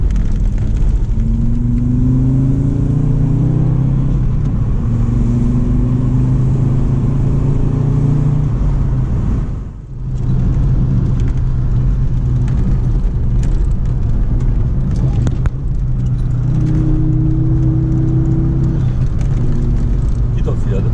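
A rally car on a small special stage of the Franche-Comté rally, its engine revving and rising as it passes, loud and near, with a second pass later, under steady talk.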